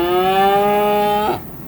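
A cow in a pen gives a single loud, close moo lasting over a second before cutting off into quiet barn ambience, with no speech.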